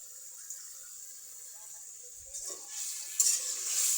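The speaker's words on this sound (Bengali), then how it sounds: "এখন এর মধ্যে মাছগুলো দিয়ে দিই।" Fish pieces drop into frying spice paste, a steady soft sizzle that swells louder with a couple of clattering hits toward the end.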